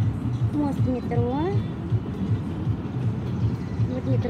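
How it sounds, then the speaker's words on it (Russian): Metro train rumbling across a bridge in Kyiv near the Pechersk Lavra, a steady loud rolling drone with rhythmic clatter throughout, while high rising tonal squeals sweep up briefly near the start. "Вот метро едет в сторону моего дома."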